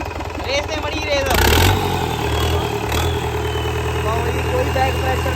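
A Tata 1109 truck's diesel engine runs steadily close by, rising in a brief rev early on before settling back to a rough, even idle, with faint voices in the background.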